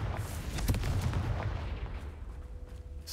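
A Confringo fire spell bursts in Hogwarts Legacy as a loud, booming blast with a rumbling low end that fades out over a few seconds.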